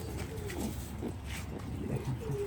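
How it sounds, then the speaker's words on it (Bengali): A male racing pigeon cooing close by, several soft throaty coos in a loose rhythm over a faint background hum. "এটা একটা মেল কবুতর।"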